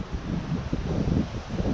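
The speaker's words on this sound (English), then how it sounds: "A little windy today." Gusty outdoor wind rushes steadily at a campfire grill where seasoned pork steaks are being cooked, a close, rumbling roar with no voices.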